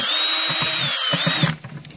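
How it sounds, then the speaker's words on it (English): A rechargeable power drill bores a hole through a plastic bucket, whining loudly and steadily with grinding chatter before it suddenly stops, leaving faint rustling handling noise. "So if you're using a rechargeable drill, you're going to have to make sure you have your batteries well charged."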